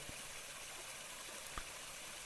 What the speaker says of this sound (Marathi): मस्त स्वच्छ हात पाय धुवून घ्यायचं